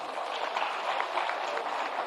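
At a ceremony where the Chief Minister hands appointment letters to teachers, a large crowd applauds. The steady, crackling round of clapping sounds distant and fairly faint, with no clear talk over it.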